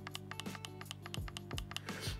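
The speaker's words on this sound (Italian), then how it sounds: "c'è un tasto nascosto nel mouse che io ho trovato personalmente solo dopo aver installato il software, e cioè è qui, nell'incavo del pollice" Clicks of the hidden thumb button set in the thumb recess of a professional computer mouse: a series of crisp, close taps, some sharper than others, over a faint steady hum.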